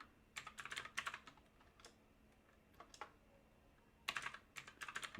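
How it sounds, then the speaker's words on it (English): Bursts of quick computer keyboard typing, close and fairly quiet, in two clusters separated by a pause with a few scattered keystrokes, while logging into a box over SSH amid a tangle of wires. "I'm trying to type amongst a flurry of wires"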